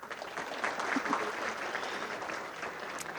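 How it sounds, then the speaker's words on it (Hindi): A seated audience in Leicester gives steady, sustained applause, dense clapping at moderate distance that continues throughout. "ताली बजाओ"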